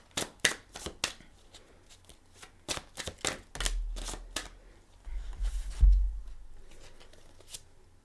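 Tarot cards snap and riffle close up as the last card is drawn from the deck. About a dozen crisp, separate flicks and shuffles are spaced across several seconds, with a soft low thump partway through.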